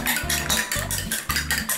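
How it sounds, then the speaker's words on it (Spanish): Egg being beaten in a bowl with a utensil for eggplant nuggets, quick rhythmic clinking strokes repeating about every half second, close and clear with no talking. "batimos el huevo"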